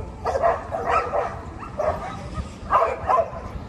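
Several dogs bark and yip in bursts at an outdoor dog play park during training, a moderate distance away over steady background noise, with no talking.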